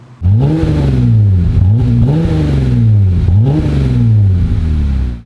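A Jeep Gladiator with an aftermarket exhaust revs up and down several times in a row, deep and throaty, loud and close, with a rumbling exhaust tone between each rise.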